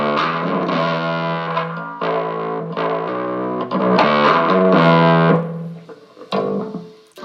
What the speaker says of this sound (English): It's a natural overdrive sound.